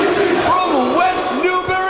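Wrestling crowd erupts in a loud, sustained roar as RVD makes his entrance, with cheers and chant-like shouting filling the arena for the whole moment.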